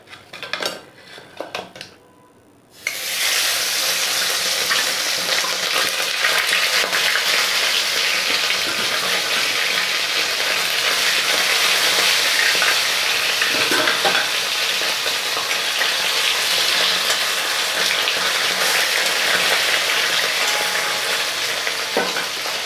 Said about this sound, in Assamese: লোহাৰ কেৰাহীত মাছ ফ্ৰাই কৰাৰ মজাই বেলেগ